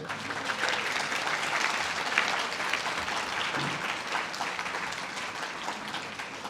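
Guests at a wedding reception applauding in a dense, continuous round of clapping that stays even and moderately soft throughout, with a faint murmur of the crowd beneath.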